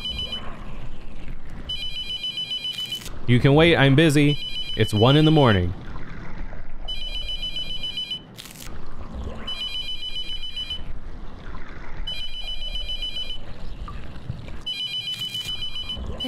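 Repeated electronic phone rings from the horror game The Mortuary Assistant, sounding in regular bursts throughout while someone talks over it, with a louder patch of voice in the middle.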